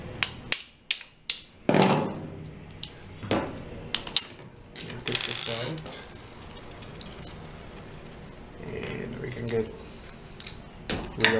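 A part for a homemade movable camera mount is unscrewed, giving close mechanical ratcheting clicks, scrapes and light metallic clatter in irregular bursts, with a few sharp knocks near the start.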